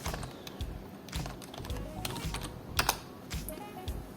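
Rapid typing on a computer keyboard, close up, with bursts of dense key clicks and a couple of louder strokes, steady and alone without speech.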